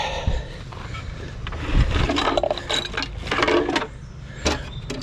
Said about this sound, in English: So let's put our boat bolts in here.